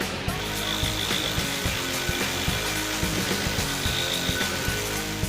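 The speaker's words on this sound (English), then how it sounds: "18V LXT Brushless Recipro Saw." A Makita XRJ05Z 18V LXT brushless cordless reciprocating saw runs steadily, its rapid, rhythmic buzzing and cutting strokes loud and continuous throughout, with no talking.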